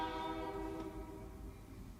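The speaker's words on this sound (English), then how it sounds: "the train would like to comment." A distant train horn sounds as a sustained tone that fades over two seconds, with a low rumble of the passing train beneath it.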